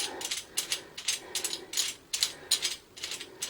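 A metal toilet handle nut being turned loose by hand, giving a run of quick, close ratcheting clicks in irregular bursts with short pauses between them.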